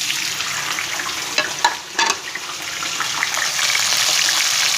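Carrots fry in hot oil for a restaurant-style mixed vegetable dish, a close, steady sizzle with a few knocks of stirring midway before the bubbling settles into an even hiss.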